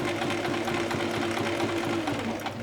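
A sewing machine runs steadily, stitching a zipper into a summer dress, a close, continuous rapid whirring chatter with an even rhythm from start to finish.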